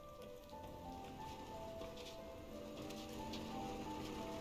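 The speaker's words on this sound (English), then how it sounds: "It's just rain." Steady, faint rain patters continuously in the video game Night in the Woods, a soft even hiss of drops with a quiet tonal music-like hum underneath.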